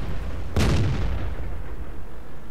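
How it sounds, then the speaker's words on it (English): A single heavy tank gun blast from World of Tanks booms loud and close, a deep thump with a burst of crackle that decays slowly into a low rumble, no voices. "See if we can get the gun down for another shot at him."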